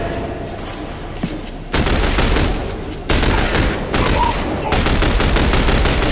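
Gunfire in the video game The Bureau XCOM Declassified, loud sustained automatic bursts that start after a quieter opening, continuing in heavy overlapping volleys.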